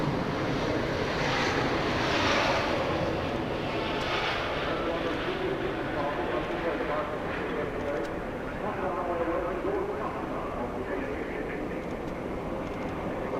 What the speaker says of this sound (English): the A350 initiates its takeoff roll